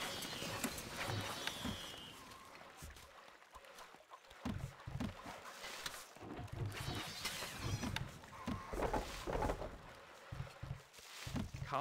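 Rhythmic hoofbeats clop along in a steady pattern beneath layered music and ambient noise in the game Stronghold: Crusader, a horse moving at pace.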